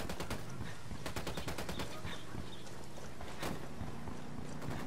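Automatic gunfire in the video game Ghost Recon Wildlands, rapid bursts of shots cracking in dense rhythmic volleys over a constant background rumble, loud and close, with a few separate louder single shots.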